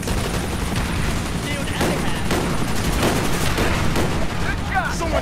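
Sniper and other gunfire in Call of Duty: Black Ops during a village assault, with several sharp cracks scattered across dense battle noise and bursts of automatic fire, under ongoing voices.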